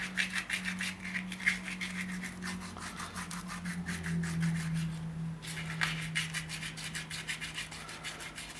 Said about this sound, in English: This sandpaper is probably 150 grit, 250, something like that, 225 or 220.